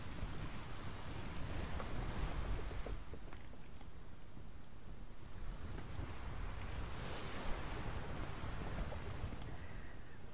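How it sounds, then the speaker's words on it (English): Big ocean waves surge around a sturdy ship in a sailing video game, a steady, faint wash of rushing water and wind noise with rolling swells and no talk. "That is a big wave."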